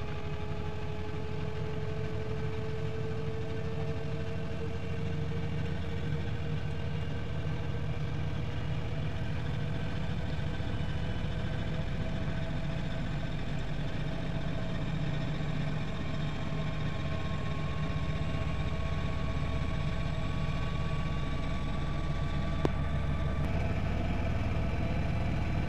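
Candy CSOW43646TWMB-07 washing machine on an intermediate spin, a steady mid-pitched motor hum with rising whine and constant vibration, loud and continuous throughout.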